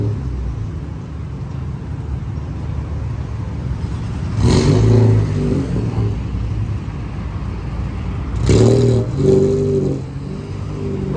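Mercedes car with an aftermarket exhaust, a steady close engine rumble broken by two loud revving bursts several seconds apart.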